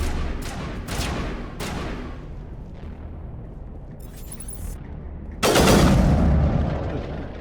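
Gunfire in the video game Mass Effect 1 (modded): several loud, close single shots ring out early, followed by a heavier, booming burst later, over a constant rumbling background.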